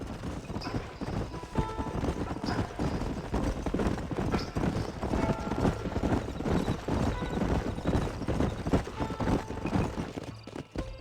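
Horses trot in a group through the Red Dead Redemption game world, their hoofbeats a continuous clip-clop over a dusty backdrop, with a brief whinny and some faint background talk.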